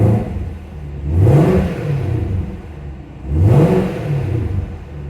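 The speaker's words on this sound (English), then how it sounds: "You can listen to the difference in the sound of the exhaust." A near-new Chevrolet Camaro ZL1 sports car exhaust revving twice, each rev swelling deep and loud then falling away, heard close up with no talking.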